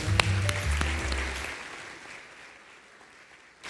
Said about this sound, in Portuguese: Você pode aplaudir Jesus por eles.